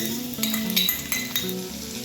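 Chopped garlic dropped into hot mustard oil with whole cumin, sizzling and crackling steadily at close range for a couple of seconds, with faint clinks of a utensil against the pan; no talking.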